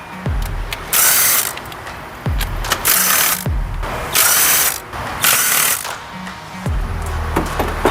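A hand ratchet loosens the valve cover bolts on a Honda D series engine in an EF Civic Shuttle, with loud close bursts of rapid clicking alternating with short pauses and metallic clinks.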